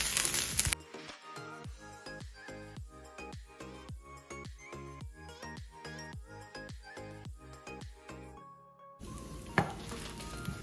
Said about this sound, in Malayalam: നല്ല ഒരു ബ്രൗൺ കളർ ആവുന്ന വരെ ഇളക്കിക്കൊണ്ടിരിക്കുക.